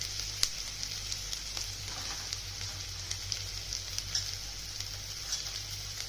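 Okra bhurji (bhendi) sizzles steadily in a pan over high flame, with turmeric just added, giving a continuous bright fry hiss broken by small pops and ticks from stirring.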